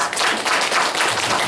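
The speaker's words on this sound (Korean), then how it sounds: "박수로 한번 환영합니다" A church congregation claps to welcome visiting family members during a worship service, a brief, fairly full patter of applause with no talking.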